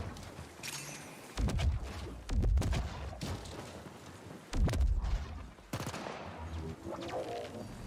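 Bursts of gunfire in The Ascent, a PC action game, come as several loud volleys of rapid shots separated by short pauses, with low booming impacts and no talk.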